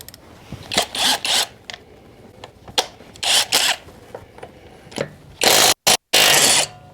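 A Seyvum 20V cordless half-inch impact wrench fires in several short, loud hammering bursts separated by pauses, with the final bursts the most intense.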